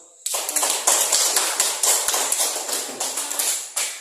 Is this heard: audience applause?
yes